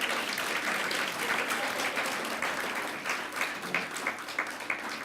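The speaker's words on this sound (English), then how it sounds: "give yourselves a round of applause to start out" A crowd at a volunteering awards ceremony claps in sustained applause, dense and even at first, then thinning into scattered claps toward the end.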